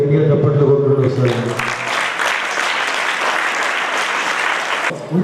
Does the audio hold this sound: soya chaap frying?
no